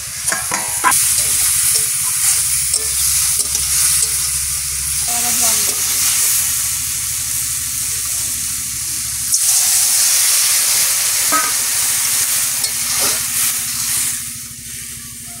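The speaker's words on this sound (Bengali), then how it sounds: "নাড়াচাড়া দেবো, ঢাকনাটা খুলবো।" Food sizzles in a pan after the lid comes off, a loud continuous frying hiss with intermittent scraping stirs and clinks of a utensil, close up and steady throughout, with no voices.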